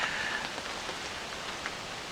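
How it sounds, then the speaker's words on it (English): Steady rain falls at Black Lake during a storm with lightning nearby, an even hiss with scattered drops striking surfaces, no voices. "And here comes the rain."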